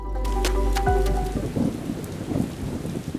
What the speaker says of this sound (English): unleashing destructive winds, torrential rain and storm surges across eastern Madagascar